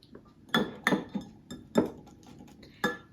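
A whisk clinks and scrapes against a bowl while mixing salad dressing for a pea salad, a handful of sharp, close metallic taps in an irregular rhythm.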